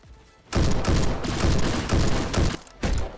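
Dense bursts of video-game gunfire fill the clip, loud and close, in sustained volleys broken by two short pauses.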